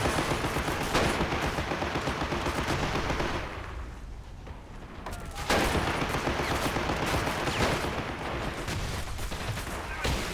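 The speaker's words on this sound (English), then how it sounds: "I got my tank right here ready to start firing." Tank cannon and machine-gun fire aimed at sandbags in the video game Men of War: Assault Squad 2, a dense, continuous barrage of loud shots that dips briefly in the middle before the firing resumes hard.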